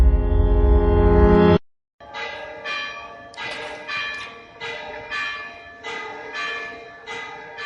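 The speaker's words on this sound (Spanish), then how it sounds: "Este es el sonido de la guamba, la campana en activo más antigua del mundo," La Wamba, the 13th-century bell in the Gothic tower of Oviedo Cathedral, rings in slow, regular strokes, each clang leaving a long metallic hum, after a loud burst of unrelated sound cuts off abruptly.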